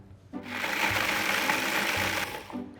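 A food processor grinds pecans and ginger snaps, a loud continuous whirring buzz that starts abruptly, runs for about two seconds and cuts off, close and alone.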